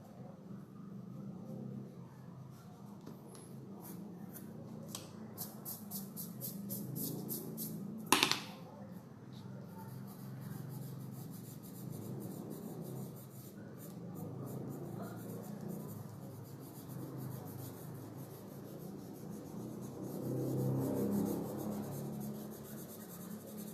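A pencil eraser rubbing on drawing paper, faint scratchy back-and-forth strokes continuing quietly throughout with a brief sharper scrape partway through.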